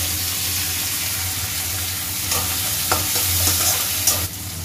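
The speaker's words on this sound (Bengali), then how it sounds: "এবারে আমি এর মধ্যে দেবো কেটে রাখা টমেটোগুলো, টমেটো দিয়ে ভালো করে নাড়াবো" Chopped tomatoes are stirred into onions frying in a pan for a Bengali fish curry, giving a close, steady sizzle broken by a few sharp scrapes and clicks of the spatula.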